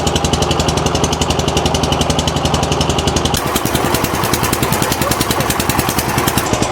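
A fishing boat's motor drones steadily as it runs close along a mangrove jungle creek in the Sundarbans during monsoon, a loud, continuous rhythmic engine chug with no talk and a slight shift in tone partway through.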